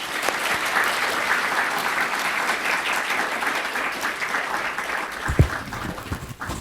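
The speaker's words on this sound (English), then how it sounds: "if you could all join me in giving him a clap and welcome him tonight." Sustained applause from an audience welcoming a guest speaker at a university lecture at Oxford, dense and steady throughout, with a few louder claps standing out near the end.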